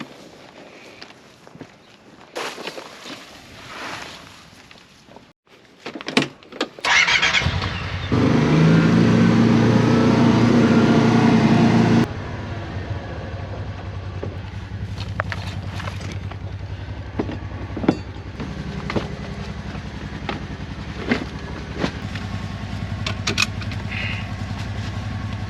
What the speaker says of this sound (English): We've got the side-by-side loaded up with peas, and now we're on the way home.